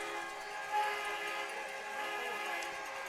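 Steady, loud train horn at a high school football game, a long sustained chord-like blast lasting the whole span with no break, heard alone with no talk.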